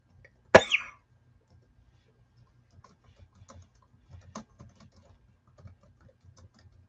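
Sparse, faint clicks of typing on a computer keyboard come in irregular short runs in a quiet room, after an early sharp cough.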